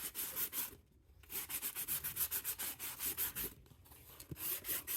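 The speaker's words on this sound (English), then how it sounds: "Sand it right away." A sanding block rubbing back and forth over the rough edge of a wood piece, with a steady run of quick rasping strokes and a brief pause, close and moderately quiet.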